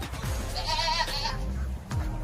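A goat at an exotic animal ranch gives one wavering bleat, fairly close, over a noisy outdoor background with faint voices.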